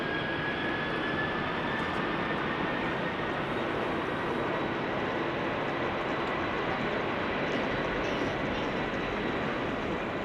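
A DHL cargo plane departs Amsterdam's Schiphol airport, its engines making a steady, loud broadband roar that holds without a break and with no talk over it.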